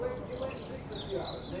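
Faint birdsong with short chirps and whistles drifts through a quiet outdoor background, with low murmuring underneath.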